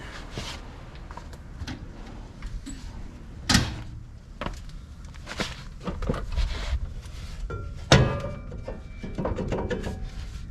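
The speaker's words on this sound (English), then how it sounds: "Let's give it a little pop with a rubber mallet." Two sharp rubber mallet blows strike a truck brake rotor on a RAM Rebel during a wheel and tire swap, landing about four seconds apart as solid mid-loud knocks over quiet shop background.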